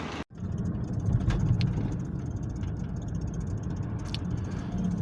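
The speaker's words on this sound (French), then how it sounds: "je m'apprête à traverser en voiture le viaduc de la Négresse." A car crosses the Viaduc de la Négresse, about 400 metres long, with a steady, fairly close engine rumble and road noise that holds evenly from start to end, and no talk.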